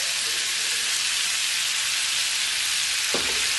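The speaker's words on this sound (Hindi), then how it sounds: "जो चिकन प्रिपेयर किया हुआ था उसे हम इस पैन में डालेंगे। साथ ही थोड़े से जूसेस भी डालेंगे।" Prepared tandoori-style chicken and its juices sizzling loudly in a hot pan, a steady, dense crackle that holds the whole time, with a brief scrape or clatter near the end.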